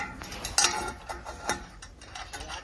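Ratcheting clicks from a wrench tightening the upper bolt while a turbo is fitted to a blue_horse, a short close burst of metallic ticks followed by a few scattered clinks and knocks.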